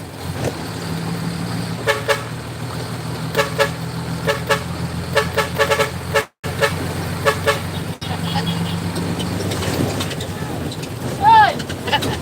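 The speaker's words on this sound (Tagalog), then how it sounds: "May busina pa rin. May busina po." A vehicle horn honks in a series of short, repeated toots spread across the stretch, with voices and background noise around it and a brief drop-out midway.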